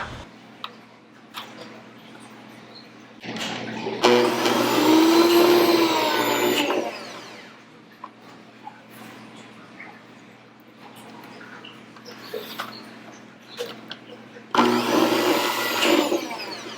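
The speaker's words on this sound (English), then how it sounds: "then I vacuum seal it and freeze" A vacuum sealer closes a bag of homemade bacon, its pump whirring loudly for about two seconds, then again briefly near the end, with small handling clicks and rustles between.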